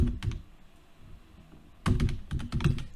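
Fingers type on a computer keyboard in a quiet room, with a quick burst of clicks at the start, a soft pause, then a dense run of keystrokes near the end.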